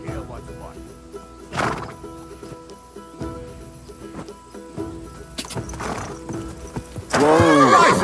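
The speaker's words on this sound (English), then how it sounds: "Watch out for that horse." A horse in the medieval game Kingdom Come Deliverance 2 gives a loud, close neigh near the end, with hoof clip-clops and ambient game sounds earlier and brief voices in between.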